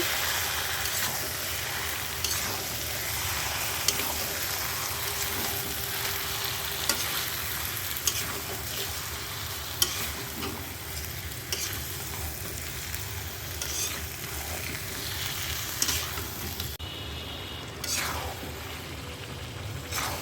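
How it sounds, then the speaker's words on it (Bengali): Chicken fries in a pan while being stirred and browned in a home kitchen, a continuous close sizzle broken by repeated scraping and stirring strokes, with a few louder clinks throughout. "চিকেনটা অনেকক্ষণ ধরে কষিয়েছি"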